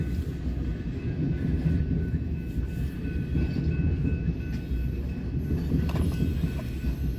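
A southbound train on the Sioux City subdivision rumbles past continuously, a heavy low roll of wheels and cars with faint metallic squeals, steady and fairly close, with no voices.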